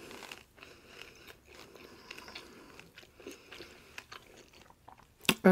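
Crunchy tacos being chewed close up, a steady run of soft crisp bites and mastication with a sharper loud crunch near the end.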